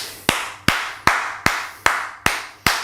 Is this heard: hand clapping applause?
yes